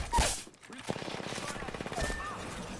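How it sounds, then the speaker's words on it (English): Rapid automatic gunfire in a video game, a steady stream of shots rattling on for about two seconds after a sharp opening burst, fairly loud and close with a few brief electronic cues over it. "Opening fire."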